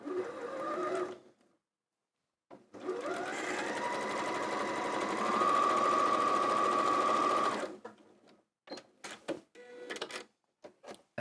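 A sewing machine stitches kaleidoscope quilt pieces in one long steady run of rapid mechanical chatter, close and clear. Short handling knocks and clicks come before and after it.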